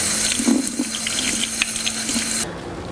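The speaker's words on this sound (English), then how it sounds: "we want to give these a really good rinse as well." Running tap water splashes steadily over canned spicy black beans being rinsed in a strainer at a sink, a continuous close hiss with small spatters, cutting off near the end.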